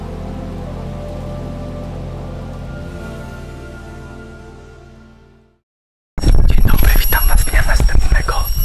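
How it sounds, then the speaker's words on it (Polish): Evening rain falls in the Borneo jungle, a dense, loud, close patter of drops on leaves and surfaces that starts abruptly after a fading musical drone and a moment of silence. "a wieczorem znów zaczyna padać i tak kończy się nasz dzień"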